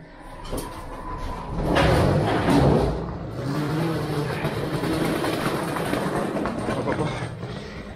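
Regional local train departing a station platform, a loud rumbling swell with wheel and brake noise as it pulls away, with people talking nearby.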